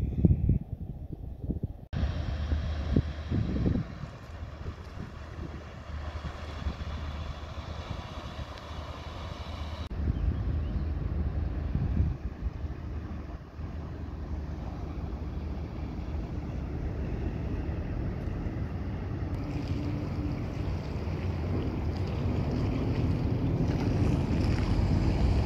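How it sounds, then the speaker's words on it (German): A large ship passes on a river near a lock, heard as a steady low engine rumble that slowly builds and grows closer, with wind noise on the microphone and no talking. "Kaum habe ich gesagt, kein Schiffsverkehr, kommt schon eins."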